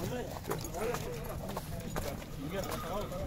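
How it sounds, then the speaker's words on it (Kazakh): Horses walk in at the Sokuluk horse market in Kyrgyzstan, their hooves clip-clopping faintly and irregularly under someone talking nearby amid crowd noise. "азыр мына жерде дагы бир аттар кирип атты эле"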